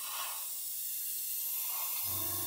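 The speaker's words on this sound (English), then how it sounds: "We can just gently spray that" An airbrush hisses steadily as green camouflage paint is sprayed onto a 1/24 Airfix Spitfire Mk.IXc model, a close, continuous spray that ends with a low hum at the finish.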